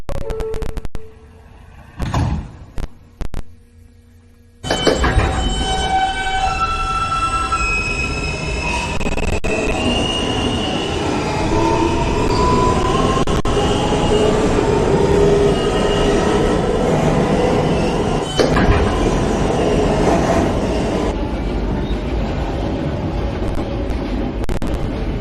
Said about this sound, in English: This is a Ditmars Boulevard bound N train.